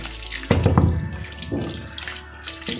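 Carrots being rinsed in water to clear off clinging soil, with sloshing and splashing bursts close by, one sharp surge followed by softer rushes and trickles.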